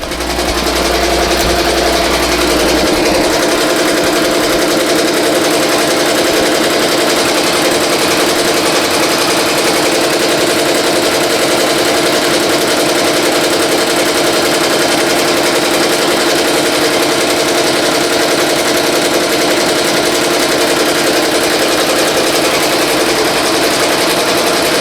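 BAI Mirror 1501 embroidery machine stitching a bean stitch outline on a T-shirt, a loud continuous rapid mechanical whirring and rattling that holds steady throughout.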